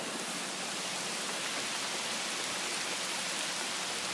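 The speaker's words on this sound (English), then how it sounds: "Wow, it's really raining out there." Heavy rain falls steadily outside, a dense, even hiss of drops that stays loud and unbroken from start to finish with no voices over it.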